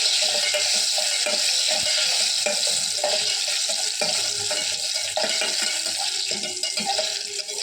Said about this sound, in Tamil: நெய் காஞ்சிருச்சு இப்போ முறுக்கு முந்திரி வச்சோம்